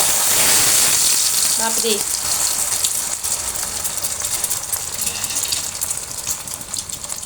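Egg omelette sizzles loudly in hot oil in a pan, a bright continuous crackling hiss that eases slightly after the first few seconds while a voice briefly exclaims.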